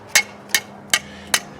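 Four sharp, evenly spaced metallic hammer strikes ring out close by on the hub and brake parts of a Pontiac Grand Am GT, each with a short ringing tail.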